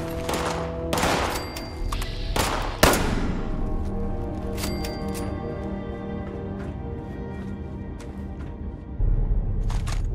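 Goons firing guns in the video game Fallout 76, bursts of sharp rapid gunfire close by in the first seconds. A few scattered shots and ringing echoes follow, then a low rumble. A voice speaks briefly underneath.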